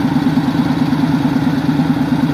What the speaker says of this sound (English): I don't know if you can hear the sound coming from the riders behind me, but the engines are pretty heavy.